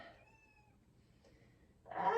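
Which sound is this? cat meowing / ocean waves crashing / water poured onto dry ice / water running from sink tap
cat meowing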